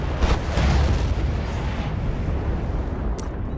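Heavy airstrike explosion in Battlefield Bad Company 2, a loud, dense, rumbling blast that fills the whole moment and slowly tails off with no voices over it.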